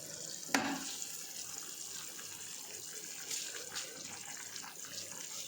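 Jeeraga samba rice poured into a pot of boiling water for vegetable pulao, a sharp splash up front followed by steady bubbling and rushing water, fairly faint and close.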